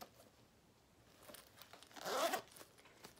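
The zipper on the back of a smooth leather designer crossbody purse is pulled in one quick, close rasping stroke, with soft handling rustles before and after in a quiet room.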